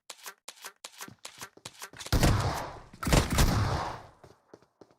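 Shotgun fire in the PUBG Mobile battle-royale game during a competitive scrim match: a run of short, quick taps followed by two loud, booming blasts about a second apart, each ringing out before fading.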